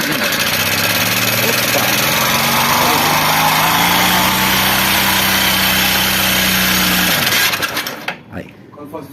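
A Honda Bros 150 motorcycle, said to have an engine noise, runs close and loud with a steady buzzing idle before cutting off near the end, while a man exclaims briefly.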